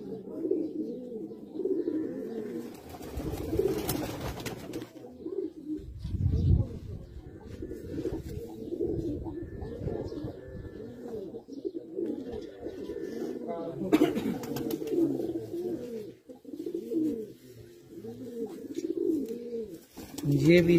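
Breeder pigeons kept by someone coo in soft, repeated rolling calls throughout, mixed with someone talking nearby and a few brief rustling bursts.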